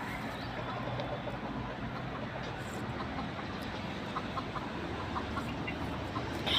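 Domestic chickens cluck near and far over steady outdoor background noise, with a continuous broadband rumble underneath and no talking.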